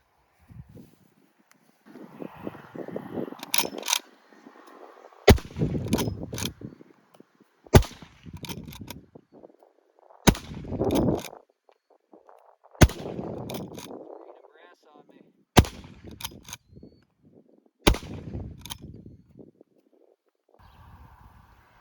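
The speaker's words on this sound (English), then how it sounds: "Alright, so we're going to walk it back a little bit and shoot this orange steel target." Sharp, loud rifle shots from a Rossi 92 lever-action fired at steel targets, about seven evenly spaced cracks over twenty seconds, each ringing briefly, with low rumbling and handling noise between shots and intermittent talk.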